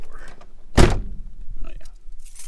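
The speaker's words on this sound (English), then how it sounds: "Close the door." A Jeep door thuds shut once, a single solid close up near the camera, followed by quiet rustling and faint background noise.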